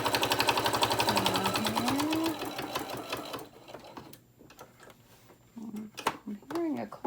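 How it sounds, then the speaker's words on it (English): A sewing machine stitches in a rapid mechanical clatter with a rhythmic clanking from a needle due for changing, running for a few seconds, stopping, then starting briefly again while someone talks over it. "I'm hearing a clanking in my machine"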